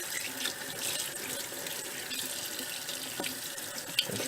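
Tap water runs steadily into a sink while a squirrel carcass is washed clean, a constant close splashing hiss with a faint clink near the end.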